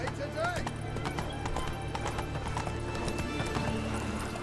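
Horse hooves clip-clop steadily from Roach, Geralt's mount in The Witcher 3: Wild Hunt, with a whinny, mixed under game music and spoken dialogue.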